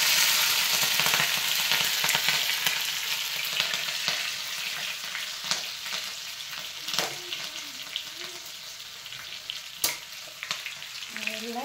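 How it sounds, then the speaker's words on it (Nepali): Fenugreek seeds, cumin and garlic sizzle loudly in hot oil as a tempering for stinging nettle curry, a continuous close frying hiss with occasional pops and stirring clicks. "अब झान्नु पर्यो भने चाहिँ मेथी हाले। जिरा पनि हालिदिने। अनि लसुन मिठो पनि हालेर"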